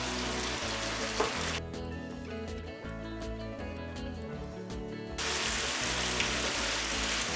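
Loud frying sizzle from a pan of zucchini pasta as tomatoes go in, a dense close hiss that eases a little in the middle and then swells again, with no talking.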